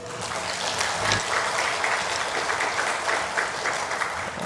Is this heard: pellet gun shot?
no